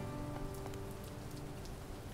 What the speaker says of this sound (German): Und es regnet wieder.